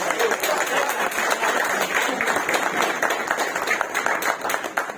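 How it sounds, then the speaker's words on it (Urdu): Audience at a naat poetry gathering applauding, a dense steady wash of clapping for several seconds with voices mixed in. "آپ سب ایک بار زوردار تالیوں سے"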